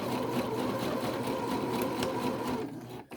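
A sewing machine stitches steadily along a box-pleated skirt, a continuous even whir that runs alone for about three seconds before slowing and stopping.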